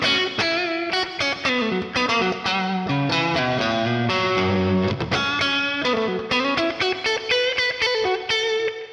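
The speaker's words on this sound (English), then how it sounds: "What a lovely neck pickup tone this guitar has." Electric guitar played through its neck pickup with a warm, rounded tone, strummed chords and picked notes ringing steadily at close range with no voices.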